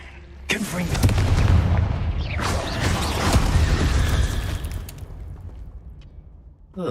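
Repeated Confringo fire-spell blasts in Hogwarts Legacy, booming bursts with crackling debris that keep up loudly for several seconds, with a voice speaking over the fighting.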